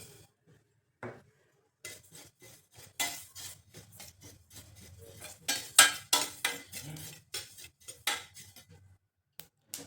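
A utensil scrapes and clinks against a pan as sesame seeds are stirred and roasted, irregular taps and scrapes at close range, starting sparse and growing busier, no talking.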